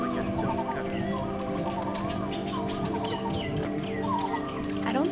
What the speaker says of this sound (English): I don't think I've ever heard this many birds in one place. There's so many different kinds of calls.